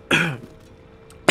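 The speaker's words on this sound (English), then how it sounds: "I cannot stop coughing." A person coughs, one harsh, loud cough up close, then a short quiet pause before a second cough bursts out at the end.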